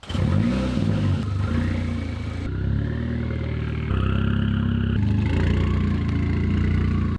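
A Volkswagen Scirocco's engine runs steadily while the car reverses, with a close, continuous mid-pitched hum that rises and settles slightly as the revs change, heard alone.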